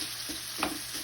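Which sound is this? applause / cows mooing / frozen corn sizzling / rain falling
frozen corn sizzling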